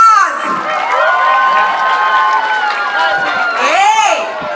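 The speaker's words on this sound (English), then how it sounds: "Let's give Stratus a round of applause." Primary school children at a school tour assembly erupt in loud, close cheering and shouting, a dense crowd roar that swells again near the end.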